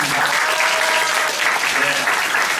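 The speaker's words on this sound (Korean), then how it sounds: "이분들께도 다시 한번 큰 박수 부탁드리겠습니다." A theatre audience applauds steadily at a musical's curtain call and stage greeting, a dense, loud, continuous wash of clapping filling the hall without pause.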